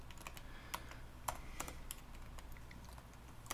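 Quick clicking keystrokes on a computer keyboard, typed in short irregular bursts at close range with no voices, a few sharper key presses standing out.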